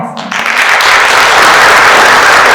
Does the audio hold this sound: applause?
yes